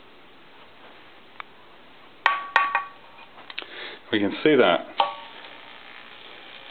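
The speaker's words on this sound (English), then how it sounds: "even if we don't touch the end of the tube to it, we just touch the glass tube to it, it lights up, and we can hear it crackling" A glass fluorescent tube lit by the electrostatic field of a CRT TV screen gives sharp crackling snaps and bursts of buzzing discharge, close and intermittent, with a voice speaking briefly.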